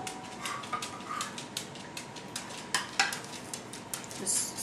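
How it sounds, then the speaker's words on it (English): Pizza sauce is spread around dough, giving soft scraping and light clinks of a utensil against a pan, quiet and intermittent, with faint kitchen background. "Just smooth the sauce around"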